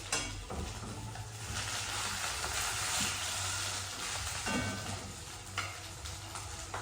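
Bangus milkfish frying in hot oil at close range, a steady loud sizzle with sharp splattering pops throughout, under no speech.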